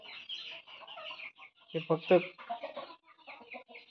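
Country hens sitting in nesting boxes cluck in short, uneven bursts at close range, with a few louder squawks, while a person speaks briefly.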